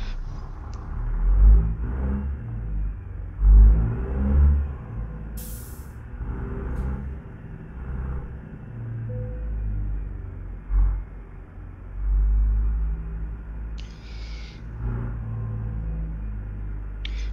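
A heavy truck engine in American Truck Simulator rumbles low while hauling a load of dynamite from Tulsa to Ardmore. The drone is steady and deep, with periodic swells as the engine revs up, and no voices.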